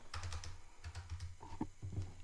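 Bursts of close keyboard typing, quick irregular key clicks pausing briefly between runs, over a faint low hum and with no talking.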